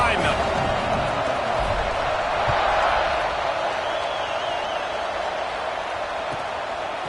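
A football stadium crowd roars in a steady, loud wash of cheering at kickoff of a TCU at Oregon college game, with a broadcaster's commentary audible over the continuous noise.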